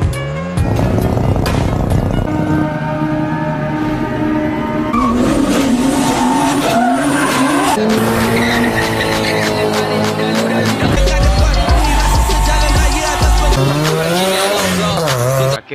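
Race cars, including a Mazda RX-7 and a Nissan, in a street race, with loud engines revving and tires squealing and skidding continuously, layered with a dense soundtrack mix.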